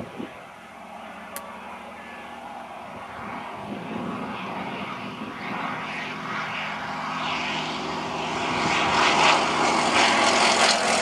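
A Westland Lysander propeller aircraft flies at an air show, its engine drone steady and broadband, growing gradually louder toward the end as it nears, with no talk over it.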